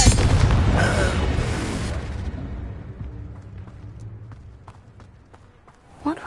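In Hogwarts Legacy, a Confringo fire spell goes off as a loud booming burst, then rumbles and fades over several seconds, with a final thump near the end.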